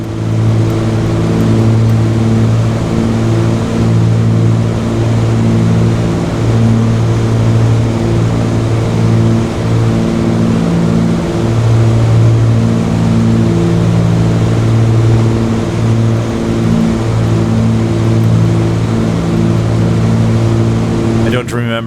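Twin piston engines of a Cessna 414AW Chancellor in Microsoft Flight Simulator hum steadily after the throttles come back, a loud, continuous low drone with layered tonal harmonics holding without a break throughout.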